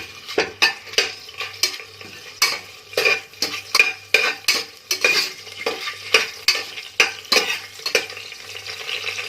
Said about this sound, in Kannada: ಆ್ಯಡ್ ಮಾಡಿಕೊಂಡು ಅದನ್ನು ಸ್ವಲ್ಪ ಈ ರೀತಿ ಒಂದೊಂದು ಈ ರೀತಿ ಫ್ರೈ ಮಾಡಿ